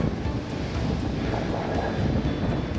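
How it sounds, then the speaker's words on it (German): Strong headwind buffets the microphone of a cyclist riding near Altefähr on Rügen, a loud continuous roaring rumble with gusty surges throughout and no voices. "Auf alle Fälle fahren wir jetzt erstmal steif gegen den Wind"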